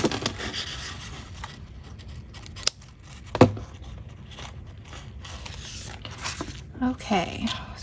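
Scissors snip paper for a collaged journal cover, a few distinct close cuts among soft handling rustles, with a person talking over parts of it.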